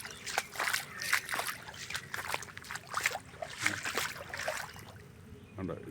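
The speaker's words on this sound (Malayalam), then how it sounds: "ആറ് ഫുള്ള് നിറഞ്ഞാണ് ഒഴുകുന്നത്" A flooded river in the Upper Kuttanad area of Kerala runs full and fast, with steady trickling and sloshing water and irregular splashes close by, while a person talks over it.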